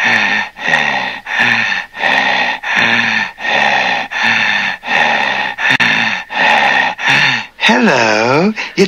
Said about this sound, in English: It's me, the heavy breather from every horror film you've ever seen.